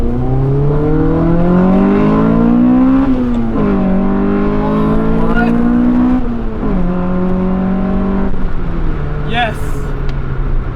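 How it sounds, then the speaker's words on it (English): A Honda Civic EF9 SiR with a B16A VTEC engine revs loudly and close, its pitch climbing through repeated rising pulls and dropping between them, with a brief voice under the engine noise. "VTEC power. That B series engine absolutely roars."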